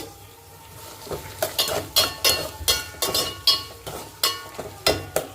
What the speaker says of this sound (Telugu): టమాటా ముక్కలు కూడా వేసేస్తున్నాను ఇవి కూడా బాగా నూనెలో మగ్గాలి